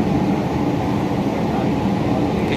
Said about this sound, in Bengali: মেট্রো চালু হয়ে গেছে,